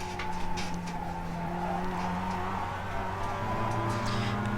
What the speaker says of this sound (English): Here I'm braking at the 2 cone and down to 3rd.